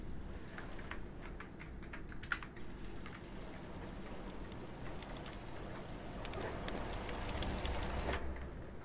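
Robots type on keyboards in Fallout 4, a faint, quick patter of key clicks scattered over a low steady background hum, fairly distant and quiet throughout.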